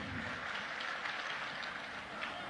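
An audience claps at a live stage mimicry and comedy show, a faint, continuous patter of many hands that stays fairly distant and even for the whole stretch.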